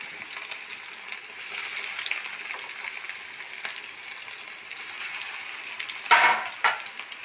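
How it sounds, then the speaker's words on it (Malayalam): Egg cutlets frying in a pan of hot oil, a steady close sizzle and crackle with a brief clatter of utensils near the end, no talking. "കട്ട്ലേറ്റ് നന്നായി ഫ്രൈ ആയി ഞാൻ എടുക്കാൻ പോവാം."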